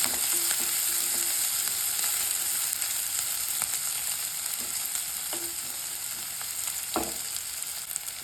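Onions sizzle steadily in hot oil, a constant bright crackle with occasional clinks of a utensil against the pan.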